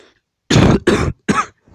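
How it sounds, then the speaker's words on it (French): Three loud, harsh coughs in quick succession from one person, close to the microphone, with short gaps between them and near silence around them. "Excusez-moi si je tousse."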